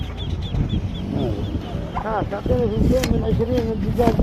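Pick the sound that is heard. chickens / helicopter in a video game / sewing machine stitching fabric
chickens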